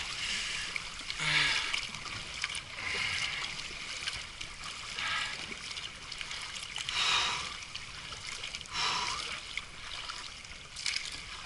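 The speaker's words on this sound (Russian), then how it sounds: "О. Ой, водоворотик." Water swirling and trickling in a small river whirlpool, with soft gurgles and a few louder sloshes rising now and then, no talking.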